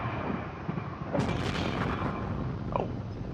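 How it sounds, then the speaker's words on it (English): A meteor explosion in a Minecraft video game world, heard as a loud booming burst followed by rumbling debris and a short crackle near the end, no talk over it. "Another meteor has dropped. A second meteor has hit the Minecraft world."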